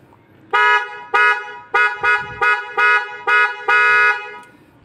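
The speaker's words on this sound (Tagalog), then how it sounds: "So, yung tunog ko ng busina ko yun." A Mitsuba Alpha II car horn honks in a rapid series of about seven loud, blaring bursts, some short and some held slightly longer, with no one talking.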